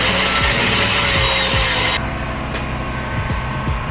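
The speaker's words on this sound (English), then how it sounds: "Tubing's all cut, sanding her down on the backside." A loud, steady grinding whine of sanding the backside of cut metal tubing for a landscape trailer, cutting off abruptly partway through to a lower hum with faint periodic scrapes.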